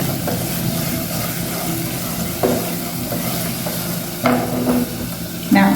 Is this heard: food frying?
yes